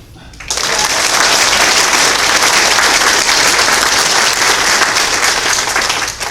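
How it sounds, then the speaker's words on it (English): A crowd at a Memorial Day gathering in a Davenport, Florida village applauds veterans' families, with a burst of clapping that starts abruptly, holds strong and even for several seconds, and then eases off slightly near the end. "Could I get a round of applause for the veterans' families?"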